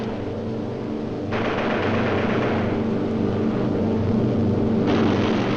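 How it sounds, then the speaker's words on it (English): Droning multi-engine roar of a B-17 Flying Fortress bomber during air combat, a steady loud engine hum that swells slightly partway through, with no voices over it. "Check that B-17, Chuck, 3 o'clock. Motor smoking."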